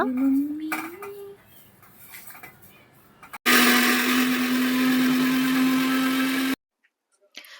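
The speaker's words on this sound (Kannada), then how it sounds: "ನಾವು ಮಿಕ್ಸಿಲಿ ಗ್ರೈಂಡ್ ಮಾಡ್ಕೊತೀವಿ ಅದು ತುಂಬಾ ಸಾಫ್ಟ್ ಆಗಿ ಬರಬೇಕು" A mixer grinder whirs loudly and steadily for about three seconds, grinding a soft pickle spice paste with water for a homemade mixed pickle, then cuts off abruptly; quieter kitchen clatter comes before it and near silence follows.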